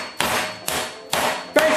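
A meat tenderising hammer pounds a chicken breast inside a freezer bag, four heavy blows landing at a steady pace, each a sharp close thud with a slight ringing clang, alone without talk.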